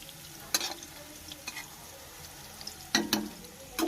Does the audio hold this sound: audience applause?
no